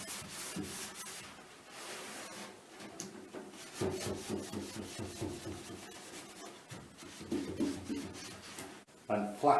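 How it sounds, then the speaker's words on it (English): Wax is rubbed into a wooden cabinet along the grain, a close, repeated soft scrubbing and rasping stroke, with someone talking over it. "just dip into that wax and work it in."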